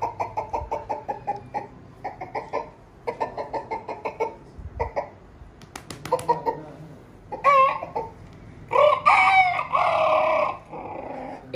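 A man imitates a rooster's crow, a series of short rhythmic clucking calls that build into long strained crowing cries, loud and close with no other sound.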